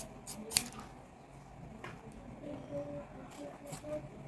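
Scissors snip through glued bag material at close range, with a few quick crisp cuts standing out under a person's ongoing talk and faint room noise.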